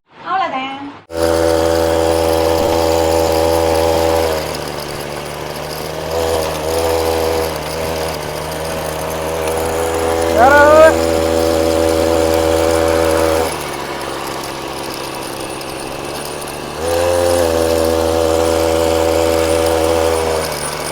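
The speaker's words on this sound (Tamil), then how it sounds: "என்ன சவுண்டு தான் கொஞ்சம் மரம் வெட்டுற மிஷின் மாதிரி இருக்கு" Mini bike powered by a brush cutter engine running steadily close by, its high buzzing drone with harmonic whine revving up briefly around the middle, dipping, then rising again; sounds much like a tree-cutting machine.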